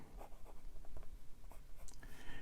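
A broad-nib fountain pen writing on paper, giving soft, close scratchy strokes in an irregular rhythm of short downstrokes, with nothing else heard.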